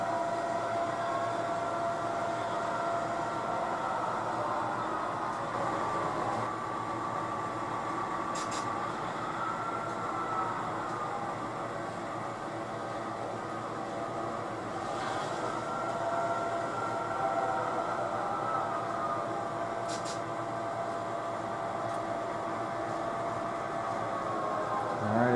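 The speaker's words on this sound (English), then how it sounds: "we can just pull our train out and back into it." Steady rumbling and whirring of a model train rolling along a track while switching, continuous and fairly close, with faint clicks now and then and no talking.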